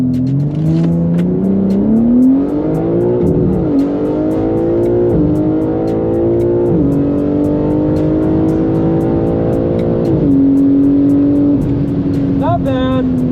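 A Nissan Skyline launches in second gear on a drag strip, its engine revving up steadily and loud through repeated rising pulls, the continuous strained roar carrying up to a high-rev limiter stutter near the end.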